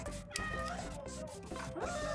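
A cat being picked up meows repeatedly at close range, drawn-out, wavering cries over a noisy background.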